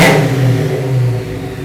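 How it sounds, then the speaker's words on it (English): A 1968 Ford Mustang Shelby GT350R Fastback V8 barks through a short, loud rev close by, then settles back toward a rumbling idle. "what does this thing sound like? And you know what? We're gonna find out right now."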